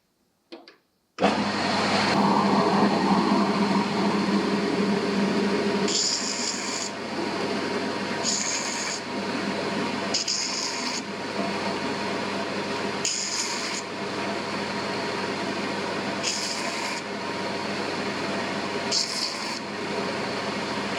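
A steady, loud rasp of a power grinder grinding off excess pin metal on a chef knife handle runs throughout, its pitch briefly shifting every few seconds.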